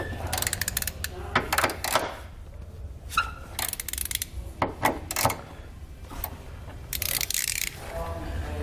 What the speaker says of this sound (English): We're going to remove these 3 bolts. So we can grab a 12mm socket,